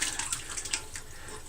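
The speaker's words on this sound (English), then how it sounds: "And I just pour all the curds in." Ricotta curds and whey poured into a wet flour sack dishcloth, giving a steady close splashing trickle of liquid throughout, with no talking.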